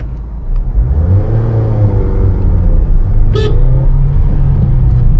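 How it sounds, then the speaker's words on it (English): A Honda WR-V car pulls away in first gear, its engine rising in a steady droning rev from inside the cabin, with a brief horn-like toot midway. "this is a test drive of WRV Honda. So now I'm in the first gear and let's see."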